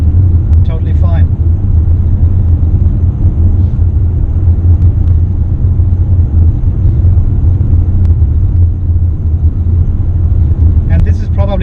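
Mitsubishi Outlander PHEV cruising on a highway in electric mode at about 95 km/h, a steady loud low road rumble and tyre drone throughout, with a few faint ticks and brief voices at the start and end.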